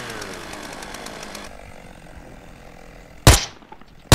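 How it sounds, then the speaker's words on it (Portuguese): A chainsaw in GTA San Andreas with a high-quality sound mod revs loudly, then drops to a lower, quieter running drone, followed by one sharp loud bang and another hit at the very end. "Repare que tem até uma reduzida na motosserra."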